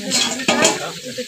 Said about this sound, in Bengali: এবারে ভাজবো আলু ভাজা